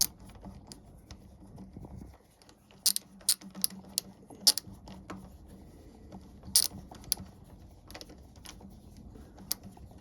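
Ratchet winding bolts in on a Honda VTR motorcycle: scattered small metallic clicks and jangling taps, some in quick bursts, fairly close but quiet against a low steady hum.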